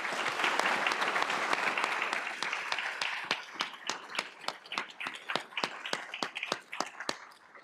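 Audience applause at a lecture, a crowd clapping that starts dense and full, then thins to scattered individual claps that fade out.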